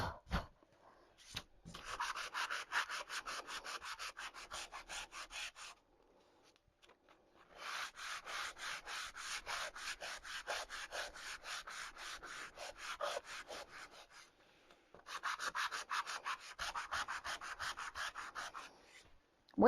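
Sandpaper rubs rapidly back and forth over a wooden door hanger to distress it, a steady, close, raspy scrubbing that comes in three long bursts separated by short pauses.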